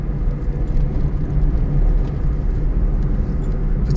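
A car engine drones loudly and steadily while driving along a road, with a constant low rumble and no clear rise in revs.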